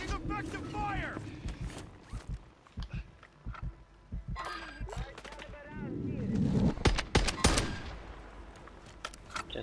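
Gunfire in Call of Duty Warzone 2, sharp shots and bursts scattered through busy game sound, with people talking in between and a heavy volley toward the end.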